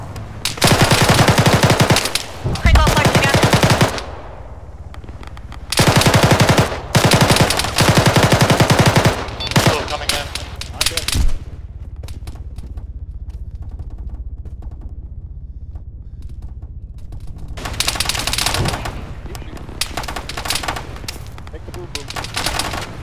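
Loud bursts of automatic gunfire fill a beachfront firefight in the video game Arma 3, with long sustained volleys broken by brief pauses and single sharp shots, up close and dominant throughout.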